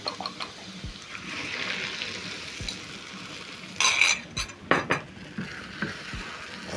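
Eggs go into a pan of warm french fries for chips mayai, with a soft steady sizzle under scraping and clinking of a utensil against the pan, ending in a few sharp stirring knocks.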